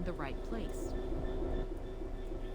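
A train braking in Train Sim World 3: a steady rumbling rail drone with faint squealing and hissing under a man's speech.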